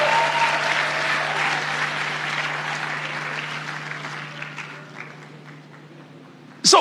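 An audience at a church sermon bursts into a loud, steady round of applause that slowly thins and fades, with a low electrical hum underneath and a brief sharp clatter at the very end.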